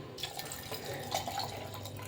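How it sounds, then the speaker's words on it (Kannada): A cup of water is poured into a small pot with pineapple while making kesari bath, a soft, steady splashing that stays quiet. "ಇದ್ರಲ್ಲಿ 1 ಕಪ್ಪು ನೀರು ಹಾಕ್ತೀನಿ."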